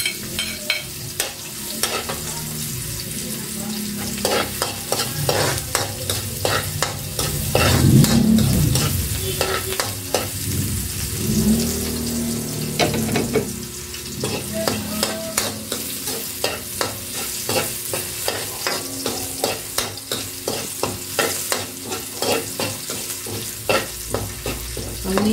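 Chopped garlic sautés in a hot pan for chicken pochero, a continuous crackling sizzle broken by frequent rhythmic stirring clatters, close and fairly loud with no talking.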